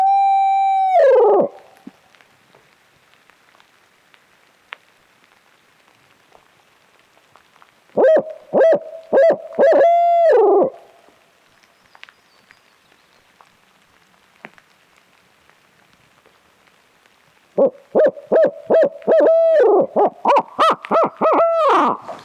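Owl hooter call blown by a turkey hunter in the rain, three loud, close bursts of rhythmic hooting spaced several seconds apart, the last the longest, with soft rain patter filling the gaps between.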